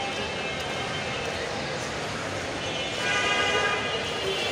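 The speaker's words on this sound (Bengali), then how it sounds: "Kamalapur railway station" Kamalapur railway station platform with trains: a continuous broad rumble of rail traffic and station bustle, growing a little louder toward the end, with a train horn faintly audible.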